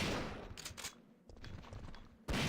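Gunshots in the Resident Evil 3 video game in the RPD station bathroom: a couple of loud, sharp bursts of fire separated by a quieter stretch of shuffling.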